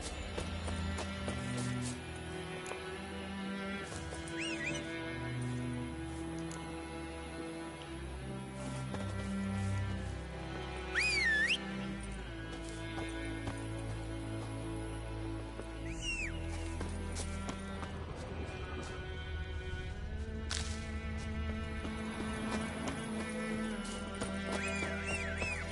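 Roach the horse in The Witcher 3 video game gallops with rhythmic clip-clop hoofbeats and gives a few shrill neighs and whinnies, all set against a continuous orchestral game score.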